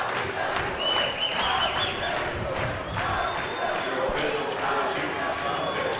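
A packed high-school basketball gym at a Class 4 sectional game roars with crowd noise, with sneaker squeaks, ball bounces and shouts throughout while a voice talks over it.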